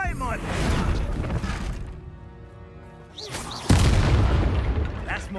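An Expulso spell explosion in Hogwarts Legacy: a loud, deep boom with a crashing burst lands suddenly after a quieter stretch, with voices and battle noise around it.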